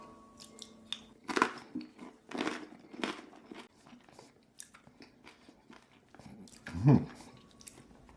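Close crunchy bites and chewing on salty flatbread topped with Taleggio cheese and sun-dried tomatoes, several crisp bites followed by softer mastication, with one louder crunch near the end.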